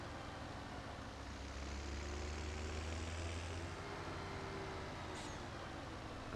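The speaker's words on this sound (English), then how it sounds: "Especially when you hear that kind of whining noise in the background as well. It's a very nice sounding tractor." A Deutz-Fahr tractor in a farming video game runs with a steady, loud engine drone, a low humming rumble overlaid by a thin whine in the background, constant throughout without any speech.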